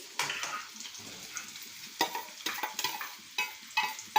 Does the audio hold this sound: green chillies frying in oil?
yes